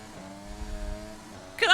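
An F1 car engine in the F1 2020 racing game holds a steady, buzzing tonal drone, then jumps into a sudden louder, brighter surge right at the end as the throttle opens.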